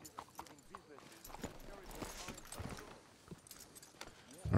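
Horse hooves clip-clopping in Red Dead Redemption 2, a series of light rhythmic clops mixed with gear jingles, with people talking over them.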